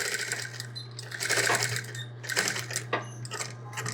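A sewing machine runs steadily as it stitches a ribbon onto a men's apron, giving a close, continuous motor hum with slight rises and dips in speed and no talking.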